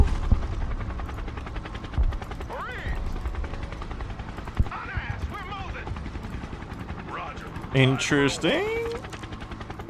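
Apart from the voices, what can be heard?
helicopter in video game Broken Arrow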